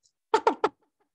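A voice mimics a hen clucking with three quick, short, close-up clucks in a row, fairly soft and otherwise alone.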